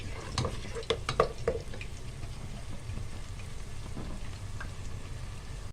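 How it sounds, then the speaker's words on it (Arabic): Onion softening in oil in a frying pan for a liver and pasta dish, with a steady low sizzle and a few sharp clinks of a spoon against the pan early on. No voices. "ادبل البصله شويه قبل ما احط الفلفل والطماطم."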